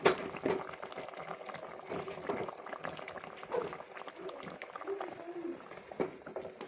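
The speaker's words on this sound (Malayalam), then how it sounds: "ഇനി ഒന്ന് നല്ലപോലെ ഒന്ന് തിളക്കട്ടെ കേട്ടോ" A pot of chicken and ash gourd curry bubbles and simmers steadily up close, with soft popping and gurgling throughout and no one speaking.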